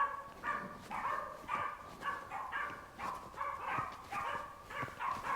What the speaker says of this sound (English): There's some annoying yappy dogs ahead.